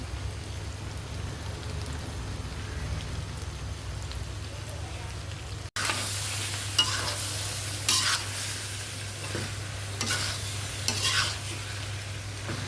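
Goat liver and potatoes stir-fried in a curry pan produce a steady sizzle with repeated spoon scrapes and taps. A brief cut midway is followed by a slightly louder, busier stretch.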